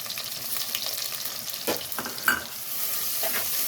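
Steady sizzling of onion sautéing in hot oil, with a few scraping stirs of a spatula against the pan.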